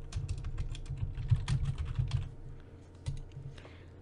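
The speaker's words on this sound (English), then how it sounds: "start typing" Typing on a computer keyboard, a close run of quick irregular key taps with a few slightly heavier strokes, nothing else heard.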